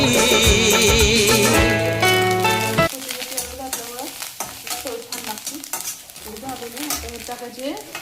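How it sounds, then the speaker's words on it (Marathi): Crumbled jowar bhakri being stirred in a kadhai, giving a steady scraping and rustling that runs under a loud music track at first and then continues as soft scraping strokes. "ज्वारीच्या भाकरीचा भुगा केलेला आहे आणि ते आता असं हलवून घ्यायचं मस्त"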